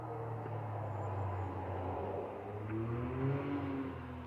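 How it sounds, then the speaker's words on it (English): An ATV passes outside a building in open fields, its engine a low, steady drone at moderate distance. The pitch rises slightly as it goes by, with no other sounds on top. "An ATV went by"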